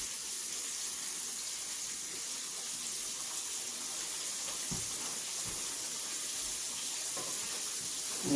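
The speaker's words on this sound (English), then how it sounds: "See how it's sizzling? That means the oil's ready." Floured cube steak sizzles in oil in a skillet, a steady, even hiss that runs unbroken from start to finish with a few faint low knocks.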